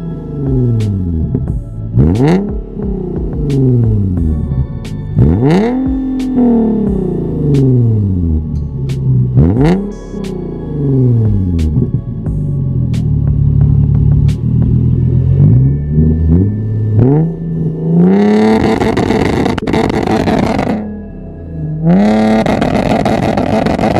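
A Nissan 370Z with an aftermarket exhaust revs hard several times in sharp, loud bursts, each climbing and falling back, followed by longer roaring pulls with crackling near the end, all close by and without speech.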